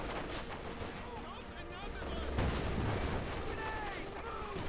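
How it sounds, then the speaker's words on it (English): A Pak 40 anti-tank gun firing in Company of Heroes 2, one heavy booming shot midway through, set among other battle noise with a commentator talking over it. "Pack 40 shoots, whiffs on that one."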